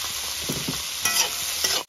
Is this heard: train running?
no